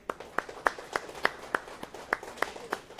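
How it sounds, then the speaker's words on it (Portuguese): Steady, evenly spaced hand claps, about ten in three seconds, ring out close and moderately loud for Dinho Braga, a studio production partner, in a small room, with no talk over them. "Uma salva de palmas pro Dinho aí."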